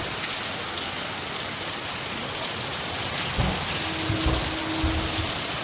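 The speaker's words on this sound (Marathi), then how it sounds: "वा छान अशी पावसाची सुरुवात" Rain begins to fall outdoors, a steady broadband hiss of drops filling the whole stretch, slightly heavier spattering toward the end, with no one talking.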